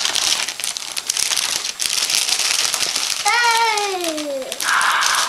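Gift wrapping paper being torn open, with loud crinkling, crumpling and ripping that runs almost continuously while a voice rises in an excited squeal.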